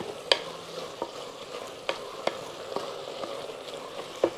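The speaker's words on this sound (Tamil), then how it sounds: "இந்த ஸ்டேஜில் நம்ம தேங்காய் போட்டுக்கலாங்க" Grated coconut stirred into an agathi flower stir-fry frying in a pan, with a soft steady sizzle under sharp scraping clicks of a spoon against the pan at irregular intervals.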